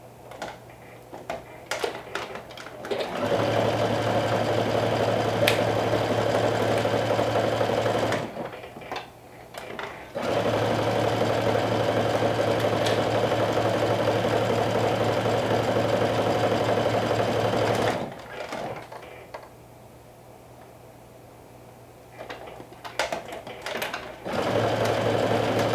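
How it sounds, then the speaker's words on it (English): A sewing machine stitches a dress in long steady runs, with brief pauses between bursts of loud, even whirring and needle chatter; no one speaks. "It is so unlike me to sew a dress on my sewing machine."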